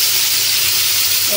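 Food frying on a stove in a home kitchen during festival cooking, a constant bright sizzle and hiss, loud and close, with no other sound.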